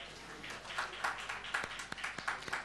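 Scattered applause from an audience, faint and somewhat distant, with a few sharper individual claps standing out above the soft patter.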